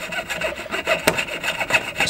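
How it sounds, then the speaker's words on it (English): A jeweler's saw blade cuts through metal for a belt buckle ring, making a steady run of close, rasping strokes with a brief louder scrape midway, with no voices. "saw in the same place and then start rotating the saw blade"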